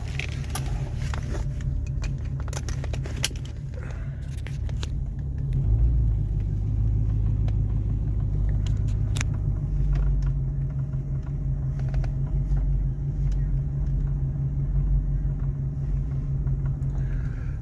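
A 1977 Ford Country Squire wagon drives along with a loud, leaky exhaust, a steady deep rumble with a few rattles and clicks near the start that swells and settles into a continuous drone.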